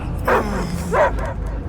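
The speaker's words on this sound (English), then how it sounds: "I hear only barking." Two loud, close dog barks from the space dog in the Guardians of the Galaxy video game, spaced about a second apart over a low rumbling game background, with no talking.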